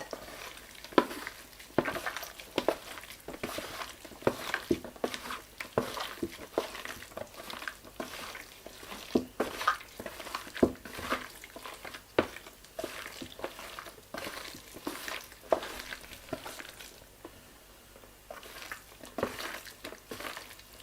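Beef steak with bamboo shoots, mung sprouts, bell pepper and black and light soya sauce is stirred in a pan, a quiet low sizzle broken by frequent irregular scrapes and taps of the utensil against the metal.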